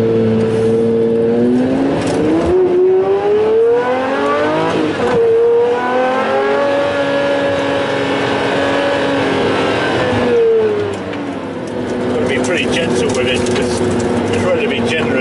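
A Pagani Zonda 760RS engine revs loudly and continuously as the car is driven, its pitch climbing and dropping through repeated gear changes, with a brief lift near the end before pulling hard again.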